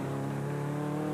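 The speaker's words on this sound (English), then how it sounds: "Flying in their powerful escort" A powerful Ford Escort rally car on the 2003 Donegal Harvest Rally holds a steady, buzzing engine note at high revs, a continuous droning whine heard alone at moderate distance.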